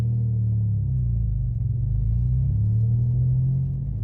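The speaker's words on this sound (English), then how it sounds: "the car is really loud" Deep, steady engine rumble heard from inside a modified 430 hp Toyota GR Yaris while driving, loud low drone with slight rising and falling pitch and no talking.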